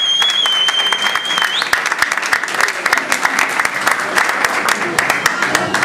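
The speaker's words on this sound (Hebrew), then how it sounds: "אם אפשר כפיים לנשים שלכם" Dense, sustained applause from a large audience fills the room at a Hanukkah alumni gathering, loud and steady throughout, with a thin high whistle-like tone in the first seconds.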